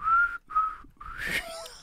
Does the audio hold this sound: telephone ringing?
no